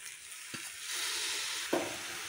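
Chopped spinach being stirred into rice and moong dal roasting in a pan, a quiet hiss of frying with two distinct scraping stirs of a spoon, heard close with no talking.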